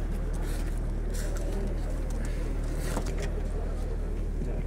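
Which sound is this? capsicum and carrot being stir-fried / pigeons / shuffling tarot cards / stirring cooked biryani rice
pigeons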